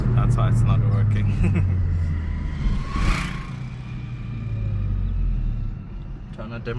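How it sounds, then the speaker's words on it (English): A 2022 Hyundai i30N drives along with a steady low exhaust rumble, a brief sharper burst near the middle that fits an exhaust burble, and wind and road noise throughout, under a voice talking. "Trying to demonstrate to you guys the burbles."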